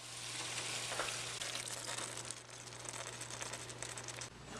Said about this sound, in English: Next, what we're going to do is add in our sauce marinade that we made.